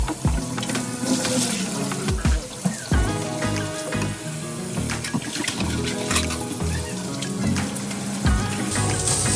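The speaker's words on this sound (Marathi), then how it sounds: "आता आपण माठ भरून ठेवूया" Water pours into a clay water pot (matka) being filled for summer use, a continuous splashing, gurgling stream with irregular sloshes and knocks, close and fairly loud, with no talking.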